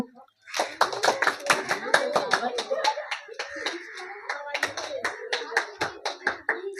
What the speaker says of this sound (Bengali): হাততালি দাও একটু